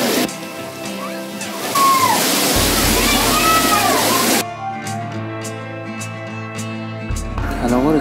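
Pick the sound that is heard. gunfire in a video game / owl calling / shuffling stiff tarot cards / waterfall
waterfall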